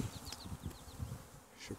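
Honey bees buzz close by at the hive, a steady insect hum with wingbeat whines passing back and forth, fairly quiet.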